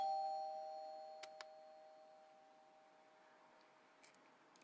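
A home doorbell chimes, two sharp strikes about a second apart followed by a long ringing tone that slowly fades; faint ticks come later in an otherwise quiet room.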